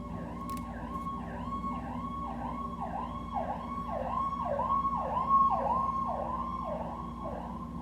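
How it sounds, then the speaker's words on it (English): An emergency vehicle siren wails in quick, repeating rise-and-fall cycles, heard at a moderate distance with slight swells in loudness and no voices. "Sirens."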